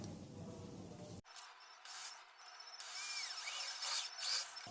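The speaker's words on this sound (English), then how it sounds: "I'm making a hole on here for the limit switch cable using this drill bit." A small drill whines steadily after a brief low rumble, with faint high squeals and scraping as the bit bores a cable hole for a limit switch, no talking.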